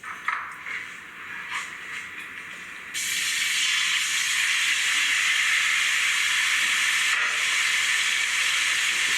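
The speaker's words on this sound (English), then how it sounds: "Stir fry the beef anywhere from about 2 to 3 minutes." Beef hits hot oil in a wok with a sudden loud sizzle that settles into a steady, close hiss, after a few quieter clatters at the start.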